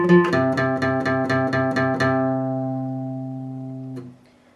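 A guitar riff at full speed: about eight fast, evenly picked notes, then a long sustained ring that fades before a faint click. Close and unaccompanied.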